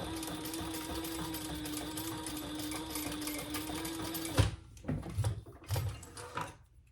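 A sewing machine top stitching a leather wallet's crossbody strap near a D-ring, running in a steady fast whirring rhythm for several seconds, then stopping and restarting in short bursts, close and alone.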